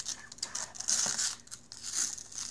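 A child rips wrapping paper off a gift package, making a continuous close papery tearing and crinkling with uneven surges.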